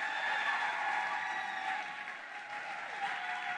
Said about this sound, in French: On applaudit pour Israël, s'il vous plaît.